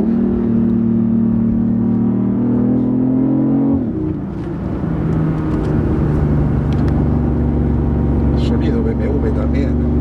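A BMW i8's three-cylinder 1500 cc engine accelerates with a loud, steady drone that climbs in pitch, drops briefly around a gear change, then settles into a lower sustained rumble. People talk over it.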